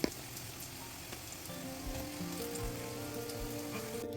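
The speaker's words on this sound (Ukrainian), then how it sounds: "Обсмажуємо баклажани з обох боків до золотистої скоринки." Eggplant slices frying in oil until golden on both sides, a soft, even crackling sizzle that runs steadily and fairly quietly, with a brief knock at the start and no voices.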